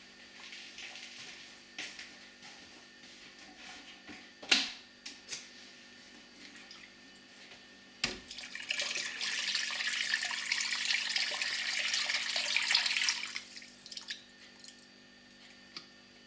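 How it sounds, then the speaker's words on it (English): Water poured into a pot over chicken and celery for cock-a-leekie soup: a few scattered drips and clunks, then a steady, close splashing pour for about five seconds before it trails off. "And then cover the whole lot with water."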